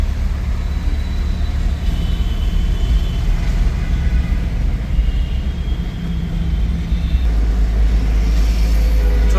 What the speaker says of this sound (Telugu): ఇక్కడ నుంచి విపరీతమైన ట్రాఫిక్ ఉంటుందండి